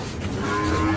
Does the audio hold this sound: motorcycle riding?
no